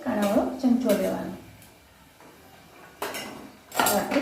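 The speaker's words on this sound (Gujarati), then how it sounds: "તળવા માટે કાણાવાળો ચમચો લેવાનો." A slotted frying spoon clinks against a pan several times while oil is being used to fry aloo matar ghughra, bright metallic knocks in two close bursts with a quieter gap between, alongside kitchen background.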